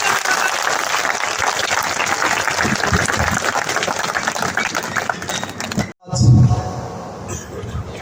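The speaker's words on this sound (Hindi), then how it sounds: "जोरदार ताली बजाकर" A political rally crowd in Ratangarh gives a loud, dense round of applause for a BJP candidate. The sustained clapping lasts around six seconds, then cuts out briefly before a deeper burst of noise and a voice.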